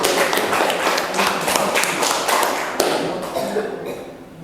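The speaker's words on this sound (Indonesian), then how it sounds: "Kasih tepuk tangan untuk kelompok 1 yang diwakili oleh Putri setelah melakukan hasil." A vocational networking class's students clap for their group's report, a dense, steady patter of many hands filling the room, close and fairly loud, fading slightly toward the end with a murmur of voices underneath.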